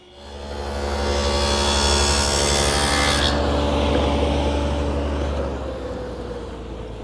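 A table saw cuts tenon cheeks on narrow rails clamped in a tenoning jig riding in the miter slot, a loud steady whine and rasp that rises as the blade bites and eases off as the cut ends.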